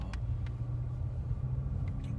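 A car engine rumbles low and steady while driving on an open road, a faint continuous drone with soft road noise and a few light ticks.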